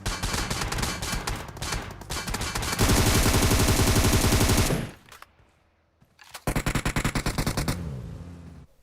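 Rapid automatic gunfire with fire bullets in the PUBG Mobile video game, loud sustained bursts that break off into a short quiet gap and then resume, with no talking.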